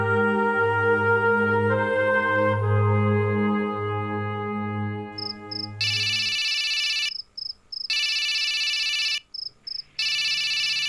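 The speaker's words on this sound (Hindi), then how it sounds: "ज्योति के घर से फोन" A telephone rings in a home: a first tone gives way to bursts of a bright electronic ringtone, repeating in regular pulses with short gaps, loud and close, with no one talking.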